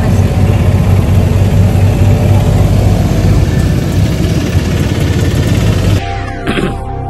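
An auto rickshaw engine runs loud and close with a steady rumbling drone and road noise, dropping suddenly near the end.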